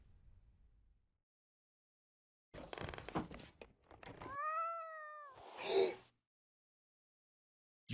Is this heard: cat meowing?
yes